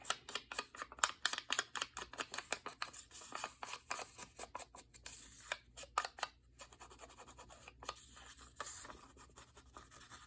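Scissors snipping paper for a junk journal, a quick run of crisp close cuts in an irregular rhythm, quiet and alone.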